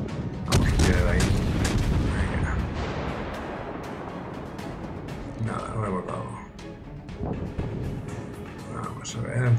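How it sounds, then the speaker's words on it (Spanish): Naval guns fire in a World of Warships battle, with a sharp opening boom followed by rumbling explosions and scattered blasts of varying loudness, and someone talks over the gunfire. "Se están tirando tiros. Los unos a los otros"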